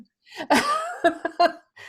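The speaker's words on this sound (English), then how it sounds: "you could still hear her sneezing" A dog sneezing in the next room behind a closed door: three or four sharp, muffled bursts in quick succession, fairly loud and with no talk.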